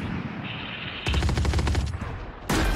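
Rapid automatic gunfire from a tactical shooter game match with a planted spike: a steady burst of loud, close shots, then a sharp louder blast at the end over background game sounds.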